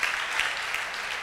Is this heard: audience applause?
yes